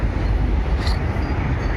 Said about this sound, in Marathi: ट्रेन बघा तुम्ही.